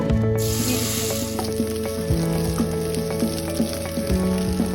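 Potatoes dropped into hot mustard oil with crackling mustard seeds sizzle loudly and steadily, a dense frying hiss with sharp pops and crackles close by.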